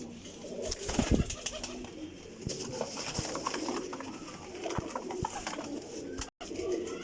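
Flying pigeons coo softly and repeatedly amid a busy background of fluttering and rustling, with several birds calling at once.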